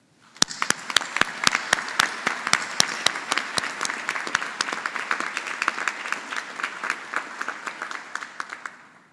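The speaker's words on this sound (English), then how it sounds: "will you also join me in a round of applause to thank them for helping you accomplish all that you have?" An audience applauds at a joint doctoral hooding ceremony, starting with a few sharp separate claps that swell into steady, full applause, then thin out and die away near the end.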